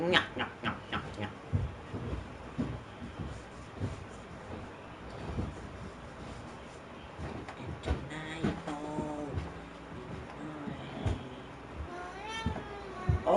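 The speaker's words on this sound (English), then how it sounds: "Sorry about my cat, because he is kinda annoying." A pet cat meows repeatedly in short, rising cries over a stretch of a few seconds, mixed in with baseball video game sounds and voices in the background.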